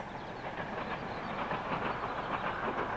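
A train on the Esk Valley Line between Whitby and Middlesbrough rumbles steadily through countryside, a continuous close rolling roar with faint clickety-clack and no voices.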